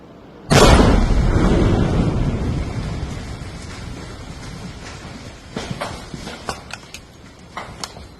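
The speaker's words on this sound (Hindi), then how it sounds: "घर भी धमाके में उड़ा दिया गया है" A sudden loud blast demolishing a house in Shopian, Kashmir, booms and then rumbles away slowly, with scattered debris clattering and cracking afterward.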